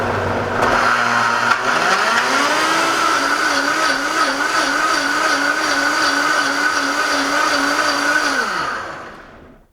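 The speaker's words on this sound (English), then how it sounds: "I generally blend my smoothies for minimum 30 seconds." A blender whirs steadily for about eight seconds blending a green basil smoothie, its motor rising in pitch at the start and holding a slightly wobbling whine before cutting off near the end.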